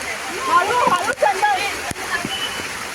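Water splashes and rushes down a small colony waterfall swollen after heavy rain, a steady close wash of spray with voices talking and calling over it.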